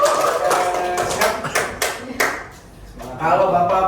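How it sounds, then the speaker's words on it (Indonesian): Students in a classroom clapping their hands in quick, lively rhythmic bursts. The bursts pause briefly midway, then resume, and voices can be heard among them. "kita tepuk tangan dulu yang meriah"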